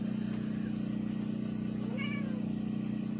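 A large cat gives one short, faint meow over a constant low electrical hum.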